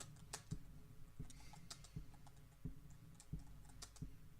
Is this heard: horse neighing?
no